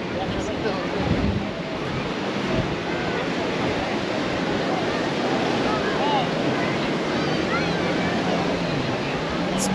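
Ocean waves breaking on the long sandy beach at Cox's Bazar, a continuous loud wash of surf mixed with breezy wind rumble across the whole stretch.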